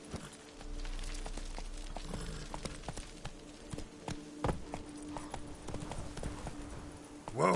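Roach, Geralt's horse in The Witcher 3: Blood and Wine, walks with steady clip-clopping hooves over a continuous low game ambience, a few hoof strikes louder and closer than others, with no voices.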